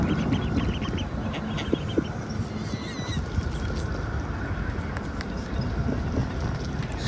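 Ducklings and ducks in St. James Park, London, giving faint scattered quacks and peeps over steady outdoor background noise with distant bustle.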